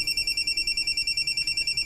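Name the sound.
cellphone ringing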